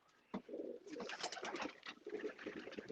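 Mature racing pigeons in a loft give soft, repeated throaty coos, close by and overlapping in a rolling murmur that begins after a brief quiet moment.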